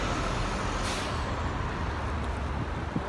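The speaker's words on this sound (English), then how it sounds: "Another bus behind us." A city bus on a springtime street hisses with a sharp air-brake release amid a steady, loud roar of traffic and engine noise, with no talking.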